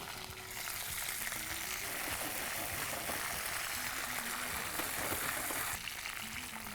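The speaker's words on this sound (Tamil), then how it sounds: "சோம்பு, பட்டை, பிரிஞ்சி இலை, கருவேப்பிலை, புதினா, முந்திரி பருப்பு போட்டு நல்லா வதக்கிட்டோம்" Steady, loud sizzling of fennel seeds, cinnamon, bay leaf, curry leaves, mint and cashews frying in hot oil with occasional stirring, continuing throughout with a voice faintly present underneath.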